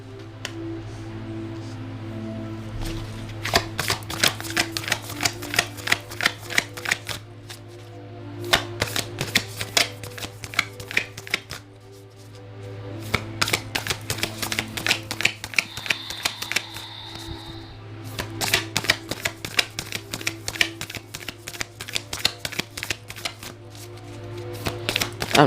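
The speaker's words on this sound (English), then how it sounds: "I'm trying to shuffle and I'm trying to absorb the cards all at once." A deck of cards being shuffled by hand in repeated bursts of rapid riffling clicks, separated by short pauses, fairly close and moderately loud over a steady low background hum, with no talking.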